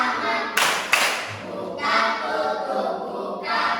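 Children in a classroom clap their hands together in a game, sharp bursts of clapping in quick groups separated by brief pauses.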